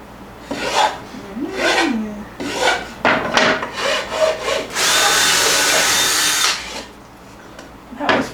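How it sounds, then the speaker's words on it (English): Wood is filed with a rasp in rhythmic back-and-forth strokes during a van bed build, close and loud, then one long sustained rasping pass near the end. "Done filing already?"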